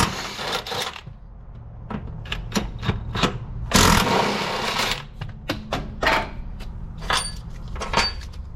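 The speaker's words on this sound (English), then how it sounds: "remove these two 13 millimeter bolts" A wrench loosens and removes 13 mm bolts from a motor mount bracket on a Ford Transit van, giving a series of short, sharp metallic clicks and ratcheting bursts close up with brief pauses between them.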